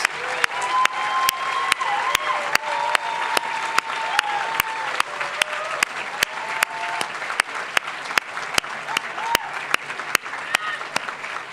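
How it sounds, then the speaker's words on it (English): Audience applause at a college graduation ceremony, broad sustained clapping from a large crowd with sharp nearby claps punctuating it at a regular beat, plus faint cheering and background voices. "Give them a big hand of applause."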